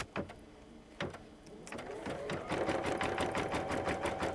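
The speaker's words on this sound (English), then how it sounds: "we'll let it stitch, and it's just going to sew right across the bottom" An embroidery machine stitches straight across the bottom of a fold on a crazy-quilting project, starting with a few separate clunks before settling into a fast, steady, even mechanical whir close by.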